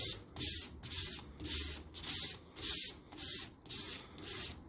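Hand sanding of Land Rover paintwork to key it before the top coat: close, even back-and-forth rasping strokes, about two per second, with no talk.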